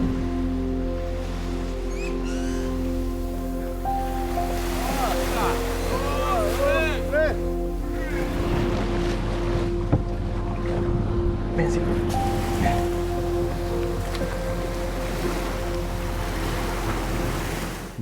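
A boat motor drones steadily over wind and the wash of sea water off Cozumel, Mexico, with faint voices in the background throughout.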